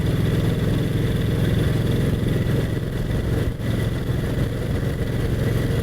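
A vintage Brough Superior SS80 motorcycle being ridden, its engine droning steadily and loud close up as it pulls through the gears, with a brief dip during a shift.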